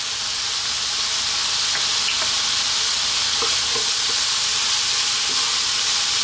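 Ground beef sizzles and fries steadily in a pan, seasoned with black pepper and salt, a continuous close hiss with a few faint clicks of stirring.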